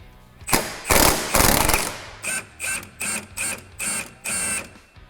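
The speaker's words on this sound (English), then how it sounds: "Now I should be able to undo this bolt and this whole thing should pop down." A power tool fitted with an extension works a suspension bolt on a Honda car: two longer rattling bursts, then a series of six short, evenly spaced hammering bursts, close and loud with no talk.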